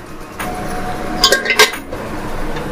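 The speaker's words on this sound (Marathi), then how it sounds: "आणि व्यवस्थित या कांद्यामध्ये मिक्स करून घेऊया" Mutton pieces being stirred into onions in a pan, a soft wet background hiss with a few close clinks and scrapes of a spoon against the pan in the middle.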